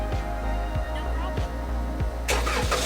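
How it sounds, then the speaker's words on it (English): A car engine starting by remote command on a winter day: repeated low thumps, then a rush of broadband noise as it catches, with faint background voices. "what we gotta do now is start my car"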